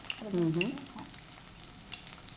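Half a cup of onion goes into a desi tadka of hot oil with curry leaves, making a near, loud burst of sizzling with stirring that settles into a steady, softer frying hiss.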